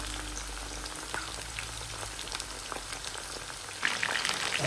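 Cleaned pieces of drumstick (murungakkai) fry in hot oil, giving a steady, close, dense sizzle with scattered pops and crackles that swell a little near the end, with no one speaking.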